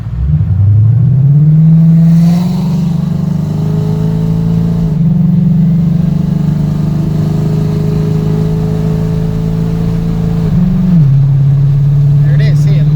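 A 2015 Ford Mustang with a Coyote engine and 4R200 automatic drives in third gear, its steady mid-pitched drone dropping slightly as the torque converter locks up, with someone talking over it.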